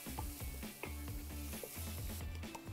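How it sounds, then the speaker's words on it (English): Shallots for a spaghetti and meatballs sauce sauté in a pan with a quiet, steady sizzle, punctuated by soft clicks and scrapes of stirring. "we're gonna go ahead and we're gonna add our shallot in, and we're gonna do the same thing"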